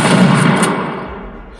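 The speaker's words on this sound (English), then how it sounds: "Let's just shoot this dude." A single loud gunshot burst from a first-person shooter built in the Game Guru Classic engine, a heavy boom up front with a decaying tail that fades over about a second and a half.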